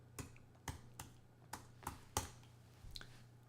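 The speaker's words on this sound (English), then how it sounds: "This is the bit where I type, and you can see how good I am." Quick computer keyboard typing: about eight sharp, separate key clicks in an uneven rhythm, close and fairly quiet over a low steady hum, with no talking.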